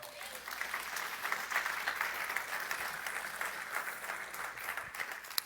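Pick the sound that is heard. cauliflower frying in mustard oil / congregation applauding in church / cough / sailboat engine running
congregation applauding in church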